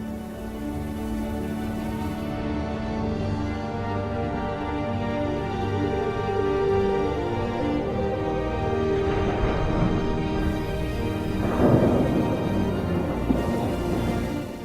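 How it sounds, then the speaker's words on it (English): Heavy rain pours steadily during a thunderstorm over grassland near the Mongolian steppe, a dense continuous hiss with low rumbling swells of thunder, one stronger roll building late, no talking. "The downpours can be massive."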